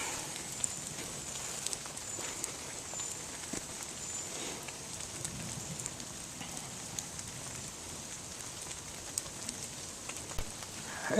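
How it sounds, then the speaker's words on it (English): Light rain pattering in the open beside a crackling campfire, with faint scattered drops and pops over a soft steady hiss; no one speaks. "it is still raining, but it's a lot lighter now"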